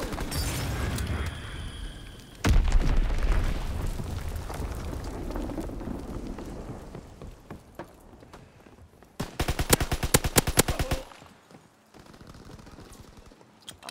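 In the Call of Duty WWII video game, a heavy grenade blast booms after steady background battle noise, followed later by a burst of rapid gunfire that fades into quieter distant fighting.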